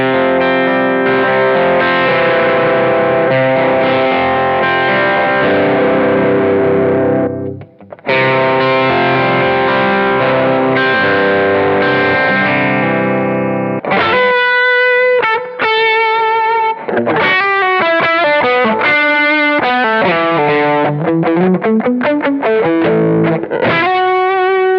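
Electric guitar on the bridge pickup runs through a Line 6 HX Effects unit with reverb, first strummed in sustained chords, then picked in quick arpeggiated phrases with a wet, lingering tail, loud and up front with no talking.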